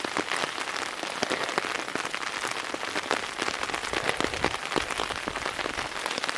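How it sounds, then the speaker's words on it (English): Heavy rain pounds steadily on a campsite, a dense continuous patter of drops striking tent fabric and surfaces, loud and unbroken throughout with no voices. "this is just to show how much rain we've been getting"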